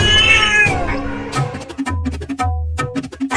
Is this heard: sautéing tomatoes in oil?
no